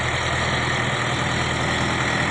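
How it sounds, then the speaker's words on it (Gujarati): Sonalika DI 60 RX heavy-duty 60 horsepower tractor powering a hydraulic piling boring machine with a two-foot auger, its diesel engine running in a loud, steady, unbroken drone close by, with no voices. "ટ્રેક્ટર છે, 60 horse power, DI 60 RX heavy duty"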